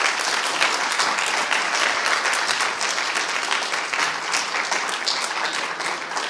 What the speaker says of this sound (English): we should certainly have another round of applause for Professor Дрейфус